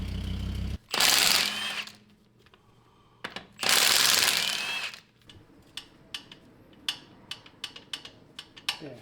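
A rattling brake pad on a car in a shop gives a string of quick clicks and light knocks, with two loud longer bursts of noise early on followed by irregular sharp taps.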